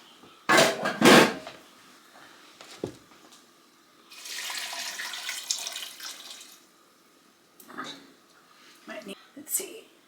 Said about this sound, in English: I am going to cover these with water.